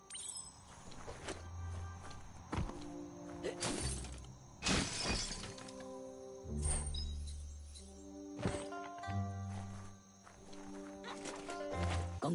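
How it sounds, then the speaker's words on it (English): Wooden boxes being smashed in the video game Biomutant, heard as repeated crashing, splintering impacts scattered among footsteps, game music and ambient effects, with no one talking. "You shouldn't worry about smashing up the box."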